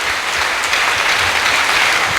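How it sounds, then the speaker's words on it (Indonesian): A congregation claps steadily at a Christmas church service, dense applause sustained throughout at fairly close range with no talk over it. "Sekali lagi kita berikan tepuk tangan yang meriah buat Tuhan kita."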